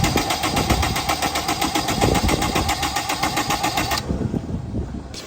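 A Honda S2000 engine cranks over in a rapid, even rhythmic churn without catching, close and loud for about four seconds before the starter stops.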